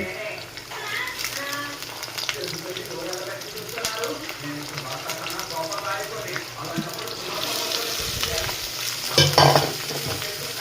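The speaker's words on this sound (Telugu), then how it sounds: "ఇప్పుడు దొండకాయలు వేసేద్దాం" Ivy gourd (tindora) frying and being stirred in a home kitchen pan, steady close sizzling with scraping stirs and a brief louder clatter near the end.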